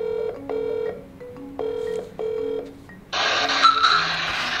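A series of short, clear telephone keypad tones in quick succession as a number is dialled, followed by a louder burst of line noise as the call connects.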